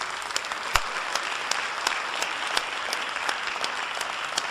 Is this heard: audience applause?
yes